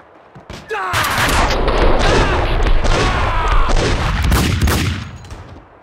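Gunfire in the Max Payne 2 PC game erupts as a dense, loud burst of shots and booms lasting several seconds, with a low rumble underneath.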